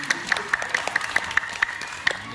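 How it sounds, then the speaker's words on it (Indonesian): Audience applause at a market revitalization outreach event in Surabaya, with rhythmic, evenly spaced claps over a steady crowd patter and a faint tonal hum, fairly close. "Tepuk tangan lagi."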